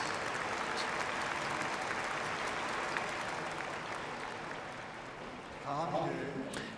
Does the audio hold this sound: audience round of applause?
yes